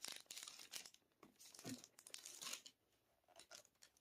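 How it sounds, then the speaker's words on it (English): Parchment paper laid over Perler beads on a pegboard for ironing, crinkling and rustling in a few quiet, close handling bursts. "And place the parchment paper back over top of all of our beads."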